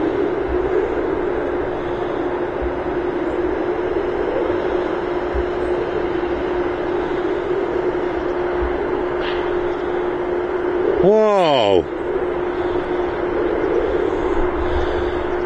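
A Socata TBM-700 turboprop takes off with its engine cover open, a steady loud engine hum and whine at a distance throughout, with a brief swooping tone sweep near the end.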